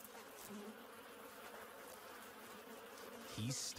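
Bees buzz steadily in a dense, continuous drone, with a louder swell near the end as one passes close, while a honey badger raids their nest for larvae.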